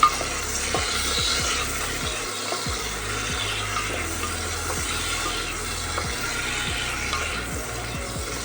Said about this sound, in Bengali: এবার পেঁয়াজের সাথে দিয়ে দেবো টমেটো কুচি সেটাও কিন্তু একটু ফ্রাই করে নেবো